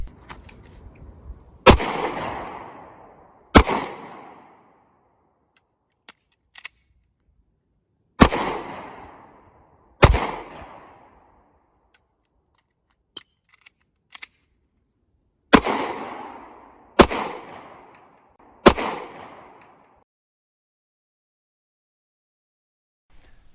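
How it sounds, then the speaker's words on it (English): Pistol shots during a reloading drill with misfires: loud, sharp single reports fired in short groups with pauses between, each ringing out with a decaying echo outdoors. "So I'm going to, you know, bang, bang, bang, and whenever the failure comes, I'll tap rack bang."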